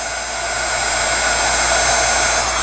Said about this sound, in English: Take your handy dandy heat tool, get it hot,